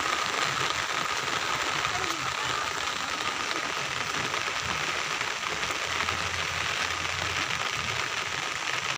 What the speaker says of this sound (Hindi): जैसे ही हम लोग घर से निकले कैसा बारिश चालू हो गया